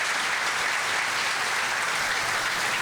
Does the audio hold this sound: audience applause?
yes